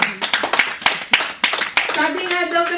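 Applause at a church Mother's Day service, with scattered bursts of hand clapping from a congregation over a few seconds, mixed with voices and someone speaking.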